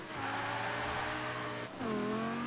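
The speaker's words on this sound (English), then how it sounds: "Is it me or do the engines sound exactly the same?" Lamborghini Gallardo and Huracan engines in Forza Horizon 4 whine steadily at high pitch, then drop briefly and rise again as a gear shifts, loud and close with no voices.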